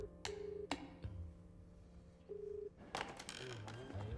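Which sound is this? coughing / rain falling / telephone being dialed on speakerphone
telephone being dialed on speakerphone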